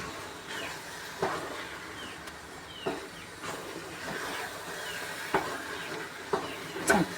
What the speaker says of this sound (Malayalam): എല്ലായിടത്തും യോജിക്കുന്നവരെ ഇളക്കി കൊടുക്കുക